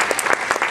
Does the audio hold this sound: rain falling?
no